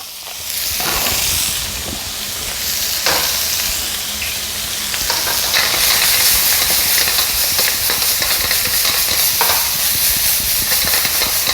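Filet mignon, seasoned with salt and pepper, searing in a hot pan: a loud, steady sizzle and spitting hiss that swells and persists throughout, with occasional crackles and scrapes as the meat is moved.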